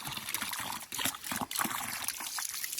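Clear water from an underground source flowing out of a pipe, heard close as a steady, lively trickle and splash that continues throughout.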